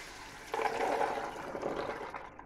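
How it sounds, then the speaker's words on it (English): Chickpea water being poured into a pot, a soft splashing gush that starts suddenly and runs for about two seconds before tapering off, faint and close with no talk. "So, chickpea water in."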